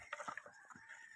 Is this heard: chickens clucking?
yes